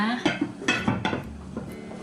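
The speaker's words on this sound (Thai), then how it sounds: "จากนั้นนะคะเดี๋ยวเราจะปิดฝานะคะ" Plastic or metal lid being fitted onto a container of no-knead focaccia dough, a few short clacks and knocks close by with kitchen clatter, some faint voice in the background.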